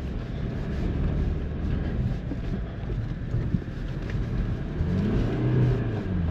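A BMW car drives off-road along a muddy country track with puddles. A low engine rumble and wind buffeting are heard throughout, with the engine swelling toward the end.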